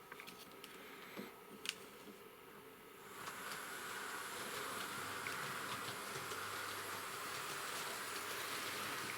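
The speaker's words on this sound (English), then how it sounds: "You see the train is there in the background." A Hornby model train runs in the background, a faint steady whir with electrical buzzing from the train set controller. The noise becomes a little louder and more constant after the first few seconds.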